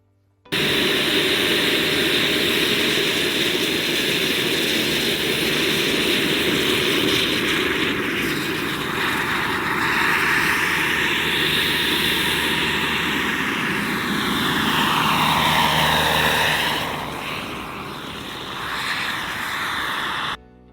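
Model pod-and-boom helicopters whir with a loud, steady engine drone, their whine sweeping up and down in pitch as they pass, then easing slightly near the end.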